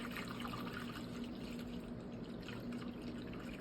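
Distilled water trickles quietly as it is poured slowly through a funnel into a container. The flow is soft and steady under a constant low background hum.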